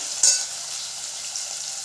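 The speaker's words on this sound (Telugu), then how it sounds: "ఇది కొంచెం ఫ్రై కానివ్వాలి, ఆయిల్లో ఫ్రై అయితే బాగుంటుంది." Potato and vegetable pieces fry in hot oil for a vegetable curry, giving a steady, gentle sizzle with a brief louder hiss near the start, heard close and alone.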